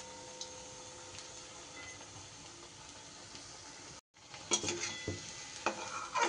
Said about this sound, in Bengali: সবগুলোই কিন্তু আমার বেশ এক এক করে ভাজা হয়ে গেল।